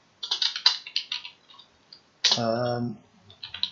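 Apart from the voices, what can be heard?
typing on a computer keyboard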